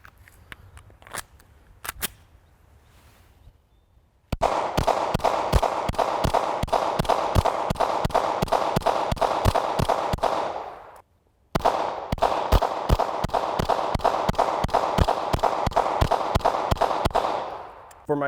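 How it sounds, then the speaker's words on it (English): Smith & Wesson M&P pistol fitted with a Faxon compensator and red dot, fired in two long rapid strings of sharp, loud shots separated by a brief pause, after a few scattered earlier shots. "The best part about all these upgrades in this pistol is how sweet it shoots."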